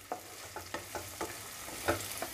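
Red chillies sautéing in oil over a low flame, a soft quiet sizzle broken by a regular series of spatula strokes against the pan, close and alone.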